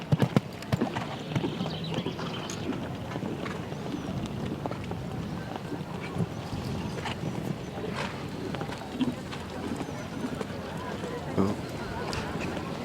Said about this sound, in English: And Bill had a very good clear round in Wiesbaden a few weeks ago with this horse in the show jumping.